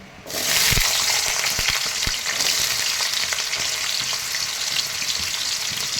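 Green and black cardamom, cinnamon, cloves, a bay leaf and potato pieces fry in refined oil for vegetable pulao, bursting into a loud, continuous sizzle with a few sharp utensil knocks against the pan.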